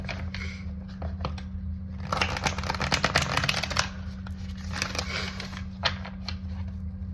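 A deck of cards is shuffled by hand, a soft papery riffle and patter that builds to a denser burst midway, then settles into lighter flicks, close and alone with no talking.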